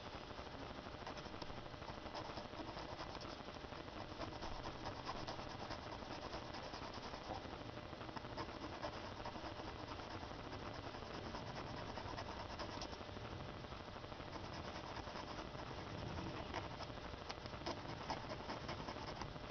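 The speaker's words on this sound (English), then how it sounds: "I'm going to file that top rail back a little bit" Steady, continuous rasping scrape of a metal file working back the top rail of a hand-laid model railroad turnout, a dense even texture running the whole time at moderate level with no talk.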